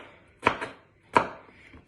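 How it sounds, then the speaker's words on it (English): Two crisp chops of a sharp kitchen knife cutting slices into bite-sized pieces for a pasta bake, each a quick double tap on a board, close and fairly quiet. "I just cut up the slices just to make little bite-sized pieces"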